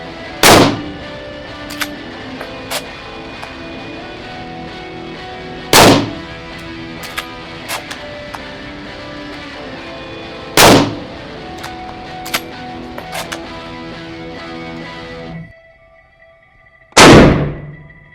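Four loud, sharp gunshots from historical firearms of the 1500s, 1700s and 1900s crack out at intervals of several seconds, each with a short ringing tail over quiet background noise.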